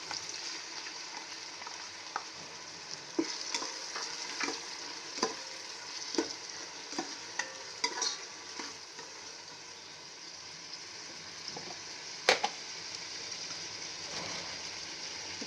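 Ginger garlic paste fries in a pan for bagara rice, a quiet, low sizzle broken by occasional stirring knocks and scrapes, close but faint.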